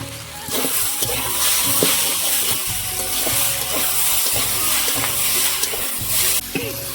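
Spices for a fish curry sautéing in a pan, with a steady broad sizzle and the repeated scrape and knock of a spoon stirring, close and continuous.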